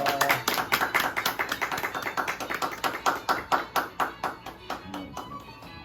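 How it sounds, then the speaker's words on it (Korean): Scattered hands clap in distinct, rhythmic claps with a sharp, close sound at a scholarship certificate ceremony, with an uneven beat that rises and falls over several seconds. "여러분들 다시 한번 큰 박수 부탁드리겠습니다."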